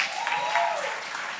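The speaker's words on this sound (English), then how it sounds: "please clap for her" A studio audience on a talk show claps for a guest, a brief dense burst of applause with a tonal sound sweeping faintly underneath.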